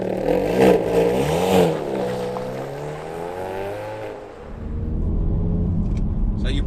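A Hyundai i30N Performance hot hatch pulls away hard, its engine revving up loud and close through rising gears before the roar fades and a rumbling idle or road noise remains.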